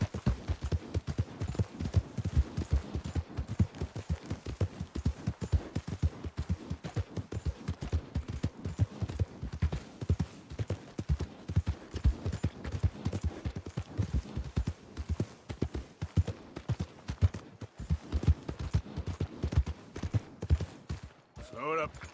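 Horse hooves clip-clop steadily in Red Dead Redemption 2, a rapid, even walking rhythm that runs the whole way, close and clear, with a voice talking over it.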